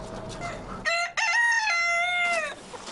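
A rooster crows once, loud and close, in a long, strained cock-a-doodle-doo over a quiet outdoor background.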